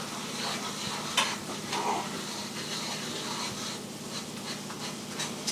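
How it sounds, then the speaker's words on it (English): Flour cooking in butter for a roux for a cream soup base, giving a steady, soft hiss and faint sizzle with occasional light scrapes of stirring, and no talk. "you want to give your flour a couple of minutes to cook in your butter"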